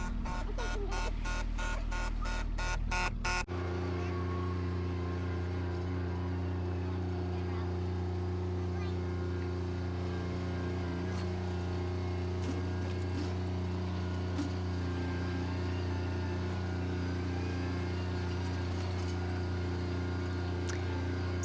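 A Bobcat tractor pushes through deep, waist-high blizzard snow on an unplowed road, its engine a steady low droning hum after a brief pulsing start.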